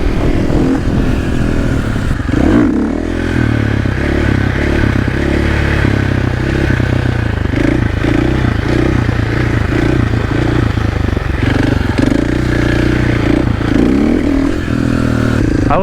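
A Yamaha R1 motorcycle rides on a track in gusty wind, its engine roaring loud and close with rhythmic surges and brief scraping clatter, and no voices.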